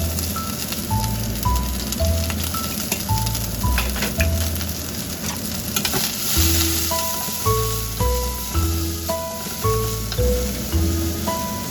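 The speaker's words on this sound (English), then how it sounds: "heat the pan and add some oil. Then fry the cabbage" Continuous sizzling of cabbage frying in oil in a hot pan, loud and close, with a simple melody of background music playing over it.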